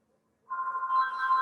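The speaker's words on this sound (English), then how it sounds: "Sorry, I have my home phone going on." A home landline telephone starts ringing partway through, a steady electronic ring that holds on clearly after a short silence, fairly close and alone without talk.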